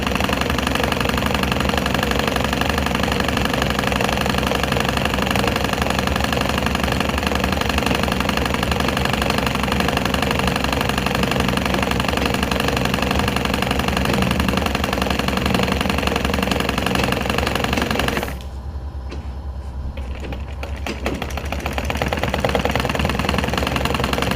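A domestic sewing machine runs steadily as it stitches along the side edge of a cloth table mat made from scrap fabric pieces, a continuous close mechanical whir that stops near the end.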